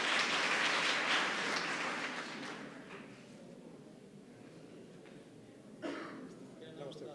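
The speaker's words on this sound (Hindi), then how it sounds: "इस बिटिया के लिए जोरदार तालियां होना चाहिए।" A college event audience breaks into loud applause that gradually fades over a few seconds, with a voice speaking as the clapping dies away.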